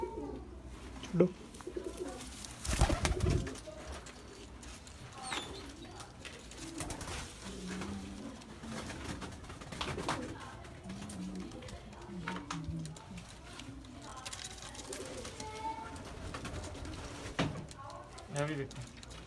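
Breeder pigeons cooing in a loft, soft low coos repeating now and then beneath steady talking by a man nearby, with occasional wing flutters and handling noises.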